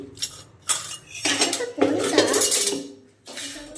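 A metal ladle clinks and scrapes against pots while boiled potatoes are mashed in a home kitchen, giving irregular bursts of close, clattering metal contact.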